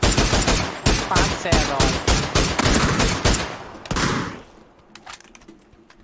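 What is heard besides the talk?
gunfire in the video game PUBG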